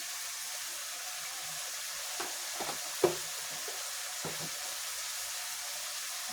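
Beef liver frying with chili and coriander powder, stirred in the pan: a steady soft sizzle runs throughout, with a few brief scraping and clinking stir strokes in the middle, no talking.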